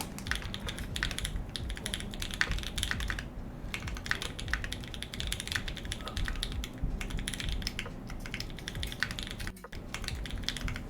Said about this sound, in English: keyboard was really loud